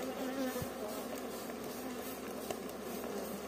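A steady, dense buzzing of many Istranca honeybees at an open hive hums throughout, close by and continuous, with a faint tap or two under it.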